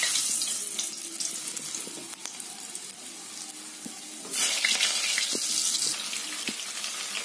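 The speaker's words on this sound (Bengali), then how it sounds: "তো এবার আমি হচ্ছে আলুগুলোকে দিয়ে দেবো। তেলটা গরম হয়ে গেছে।" Potatoes dropped into hot oil for a Bengali alu dum, a steady bright sizzle of frying that swells louder partway through, close up and with no talking.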